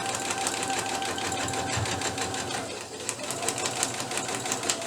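Sewing machine stitching a paper pieced quilt block, a fast, steady mechanical whirring with regular needle clatter, heard close up throughout and briefly easing near the middle as it back-stitches.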